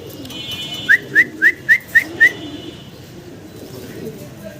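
Pigeons at a pigeon sale give low, soft coos, joined midway by a run of six sharp, rising whistled chirps close by.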